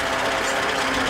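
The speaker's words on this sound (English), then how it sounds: "Now we're just using engine braking to come down the hill." Engine of a 1970 Land Rover Series 2A in four-wheel drive with locked hubs, braking on compression while rolling downhill: a steady, continuous drone with a dense rough buzz filling the clip, close and loud, with no talk.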